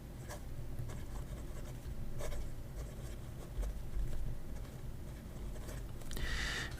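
A Majohn flex-nib fountain pen scratches across paper in soft, continuous strokes, close up and quiet with a faint low room hum underneath.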